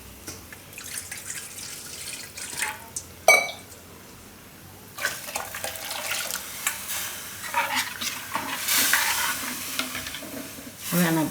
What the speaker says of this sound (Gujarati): થોડું પાણી નાખશું આપણે એમાં આજે.